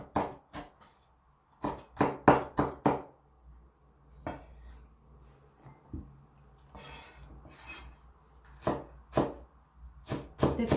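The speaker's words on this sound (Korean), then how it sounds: "그리고 더덕은 이렇게 잘게 썰어줍니다." A knife finely chops deodeok root on a cutting board in sharp, loud clusters of rapid strokes separated by pauses, with occasional softer clinks and no talking.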